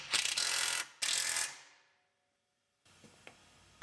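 A ratchet driving bolts into the sway bar of a 2018 Ford Explorer Limited AWD, two short bursts of rapid clicking close by, then silence and a faint rustle.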